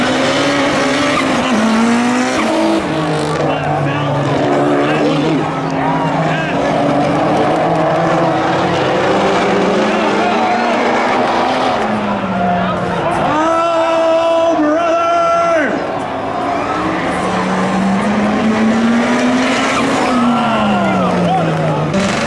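A 1,000 horsepower race car screams through its gears at full throttle, engine pitch climbing and dropping with shifts, while tires squeal sharply mid-run; loud, close and sustained, with voices faintly mixed in.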